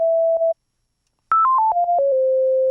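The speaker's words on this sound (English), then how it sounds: "So we're gonna start off with a sine wave." Pure sine wave from a Serum software synthesizer, clean and loud, playing one held note, a short gap, then a quick descending stepped riff that settles on a long sustained tone, with no voices.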